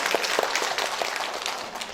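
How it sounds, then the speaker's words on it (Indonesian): Loud, dense applause fills a hall at a family planning program event as the audience claps for the PKK cadres, a brief steady burst of many hands close by with no voices over it. "tepuk tangan untuk para kader"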